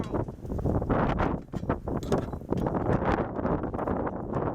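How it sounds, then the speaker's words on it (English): Strong wind buffets the microphone in steady roaring gusts, broadband and close, with no voices; outdoors during repair work on a 2009 Dodge Grand Caravan. "It's really windy."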